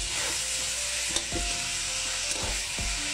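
Potatoes go into a pan of frying chicken, giving a steady sizzle broken by a few scraping stirs and soft knocks of a utensil against the pan.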